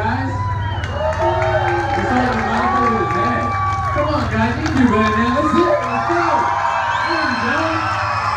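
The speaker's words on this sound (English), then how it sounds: "Round of applause." Crowd at an alligator show cheering, whooping and applauding together, a loud continuous roar of many voices with children's shouts rising above it.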